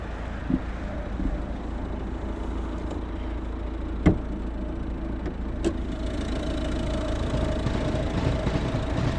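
A 2010 Volvo V50 1.6 D2 eight-valve diesel engine idles with a steady, low rumble, broken by a few sharp clicks and knocks nearby.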